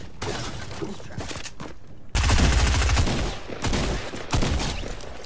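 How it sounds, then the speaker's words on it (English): Bursts of automatic gunfire in Fortnite as a player fires at an opponent, loud and close, with a heavy sustained volley in the middle and further rapid bursts following, no talk. "that was just like me just randomly shooting at someone"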